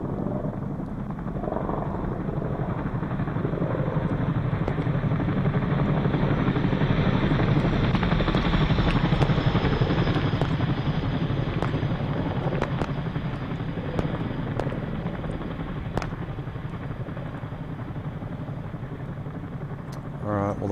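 A helicopter circles overhead in a military video game, the rotor thrum and engine roar holding loud and steady, with occasional sharp clicks and brief distant pops over the drone.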